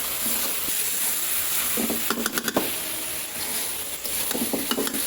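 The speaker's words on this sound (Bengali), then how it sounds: "আর শাক ভাজি করতেছি।" Leafy greens frying in a pan at home, a continuous hissing sizzle with a few clattering stirs of a utensil, close by and without talk.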